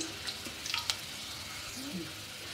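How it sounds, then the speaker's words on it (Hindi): Faint sizzling of garlic frying in a pan, a steady crackle with a few brief stirring clinks early on. "देखिए मैंने लहसुन डाल दिया है और बस ये गोल्डन हो जाएगा"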